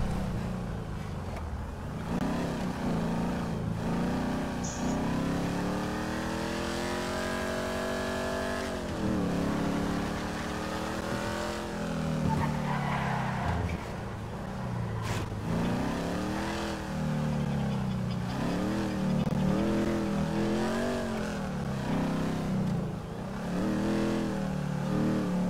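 A car driven in a GTA roleplay video game, its engine revving up and down in long sweeping pitch rises and falls, steady and close throughout with no talking.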